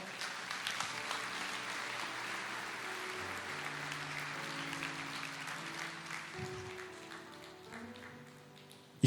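Sustained applause from a church congregation, a dense wash of clapping that fades gradually toward the end while sustained music plays underneath.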